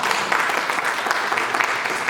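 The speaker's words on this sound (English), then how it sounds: "So we'll clap for her." An audience claps for a panelist at a university digitalisation workshop, a dense, steady burst of many hands sustained throughout at moderate loudness.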